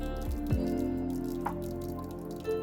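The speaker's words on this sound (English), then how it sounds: "I'm going to place it into a large bowl, and then I'm going to add my distilled water." Distilled water is poured onto a coconut coir brick in a large bowl, giving soft drips, trickles and a few small splashes against a quiet background.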